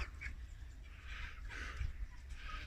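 Ducklings quacking outdoors, out on their first trip outside near a small pool and hens, a scatter of soft calls at moderate distance over low steady background rumble.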